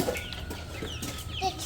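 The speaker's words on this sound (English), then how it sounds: "these chickens, they are very big, some of them, and they're trying to roost." Large chickens cluck softly and intermittently as they try to roost, a few close murmuring calls over low background noise.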